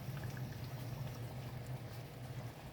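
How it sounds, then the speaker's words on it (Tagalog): Soft, steady bubbling of a pot of monggo (mung bean) soup with chicken and alukbati on the boil, low and continuous throughout with no voices. "Kumukulo na."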